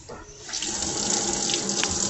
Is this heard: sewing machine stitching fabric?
no